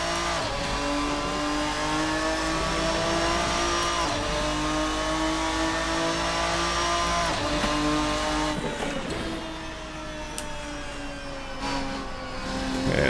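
Ferruccio 57 race car from the Assetto Corsa racing game, its engine droning steadily at high revs with shifting pitch through corners and brief tire squeal, loud and continuous with no talk.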